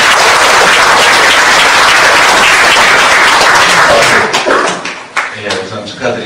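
Sustained applause fills a party convention hall, loud and dense clapping from a large crowd, thinning into scattered claps and a few voices near the end.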